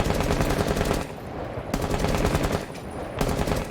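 Rapid automatic gunfire from a first-person shooter video game, fired from the hip in three sustained loud bursts separated by brief gaps.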